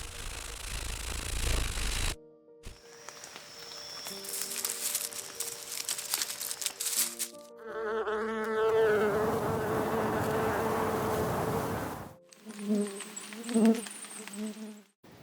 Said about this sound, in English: Flying and hopping insects.